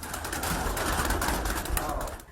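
Van pigeons cooing steadily amid a busy, noisy background, the soft calls overlapping throughout with no clear pauses.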